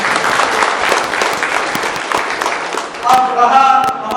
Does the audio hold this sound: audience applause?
yes